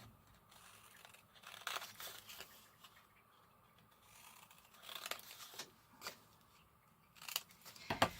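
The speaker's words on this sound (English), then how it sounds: "Just going to snip all the corners nicely." Scissors make several quiet, crisp snips through a handmade journal cover's corners, spaced irregularly with pauses between cuts and faint paper rustling, close and soft.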